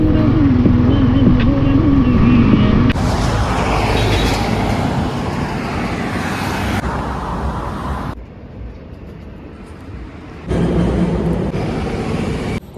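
Yamaha MT-15 motorcycle ridden on a highway from Guwahati toward Moran, with steady engine drone and road and wind roar that shifts in tone and briefly drops before surging back up.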